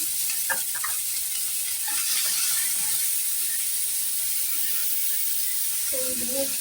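Onion frying in a hot cooking pan, a steady loud sizzle and hiss that runs throughout with faint stirring and a few voice fragments underneath.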